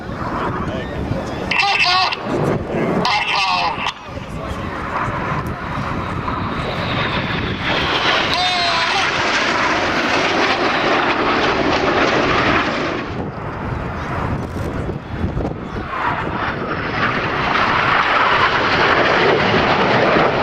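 A synchro pair of display jets flies low at an air show, a loud continuous engine roar that swells and fades, with crowd babble and commentary underneath.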